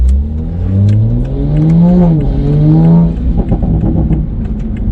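A tuned Toyota A90 Supra engine with a downpipe revs up and down with a rising, throaty whine, loud and close, sustained over several seconds.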